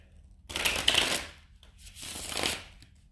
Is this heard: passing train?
no